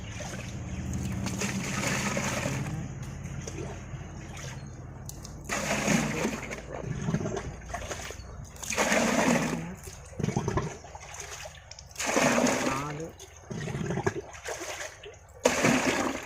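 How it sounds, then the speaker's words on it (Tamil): Water poured from cans into a pesticide sprayer tank on a maize farm, heard as repeated gushing, splashing pours in separate bursts with short quiet gaps between them and someone talking faintly at times. "பத்து டப்பா தண்ணி ஊட்ட போகிறோம்"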